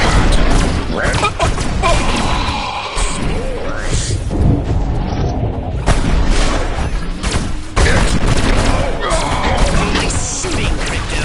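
Shooting and explosions from the PS4 game Destroy All Humans, a loud, dense and continuous barrage of blasts, crashes and impacts with no letup, with voices mixed in.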